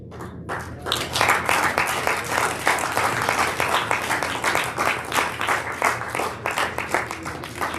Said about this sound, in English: Can we clap our hands again